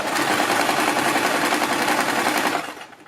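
A sewing machine runs fine pin tucks along a crease in a kurti, one loud, continuous close-up burst of stitching that winds down at the very end.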